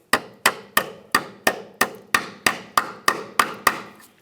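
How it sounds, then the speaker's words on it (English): A hammer taps a locking clip onto a rear brake flex hose on a 2009–2019 Ford Flex, twelve sharp, evenly spaced metallic knocks about a third of a second apart, close and clear with no talk. "We'll just tap that into place."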